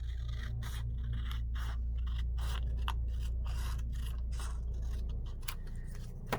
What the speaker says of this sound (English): so I'm going to just cut it down to strip, perhaps about that much, about there, and I'm going to cut it.